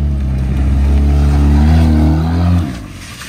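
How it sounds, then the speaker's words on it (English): A car engine revs steadily and loud during an e-brake slide, a sustained droning tone that rises slightly then cuts off sharply near the end. "Oh, the e-brake slide."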